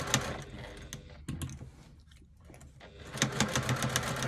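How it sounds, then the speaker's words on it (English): Sewing machine stitching a second line beside the first on a bag's darts, rapid ticking bursts at the start and end with a quieter pause in the middle, close and moderately loud. "adding that second line of stitching just outside of the first"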